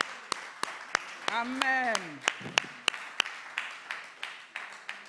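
A church congregation claps in a steady rhythm of sharp, evenly spaced claps, while a voice speaks and calls out over them.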